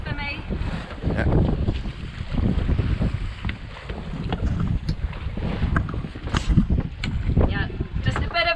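Wind gusting and buffeting the microphone aboard a sailboat heeling under sail, with water rushing alongside and people talking throughout.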